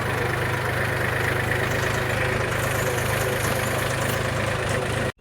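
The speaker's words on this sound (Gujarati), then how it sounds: "ટ્રેક્ટર આંચકા મારી રહ્યું છે, તમે જોઈ શકો છો." A tractor engine jerking runs loud and close, a steady low rumbling chug with slight unevenness, cutting off abruptly at the end.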